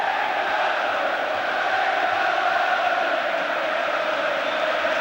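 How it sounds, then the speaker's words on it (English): A football stadium crowd roars after an England goal against Brazil, a dense and loud wall of cheering that holds steady for the whole stretch, with no single voice standing out. "That's got the crowd going."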